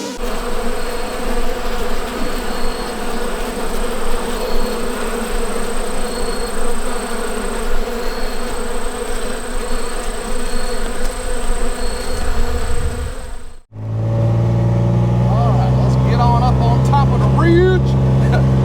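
Swarm of bees buzzing steadily and loudly around beekeepers in bee suits outdoors at a barndominium build site, a continuous drone that cuts off abruptly near the end, followed by close voices talking over a lower hum.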